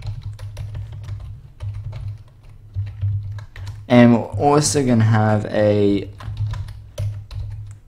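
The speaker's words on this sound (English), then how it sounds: "I'm so bad at typing." Rapid tapping on a computer keyboard that slides around on the desk while someone codes in C#, a continuous clatter of keystrokes with someone talking briefly over the middle.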